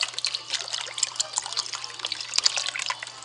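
Liquid being poured over meat in a container for a freezer meal, a steady close trickle and splash that runs continuously and fairly quietly.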